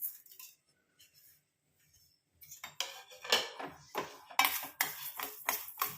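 A small pan on a stove for lightly frying ingredients for a homemade face powder gives off metallic clinks and scraping close by: a few faint taps at first, then a busy run of clattering, stirring sounds with no voices.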